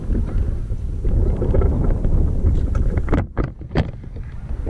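A boat motor runs steadily while fishing for catfish, a loud, low rumble mixed with wind buffeting that dips briefly near the end before picking up again, with no one talking over it.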